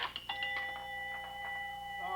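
A bell fitted inside an opened-up Bingorilla pinball machine rings in a quick burst of bright dings, then its tone hangs and decays, close and clear.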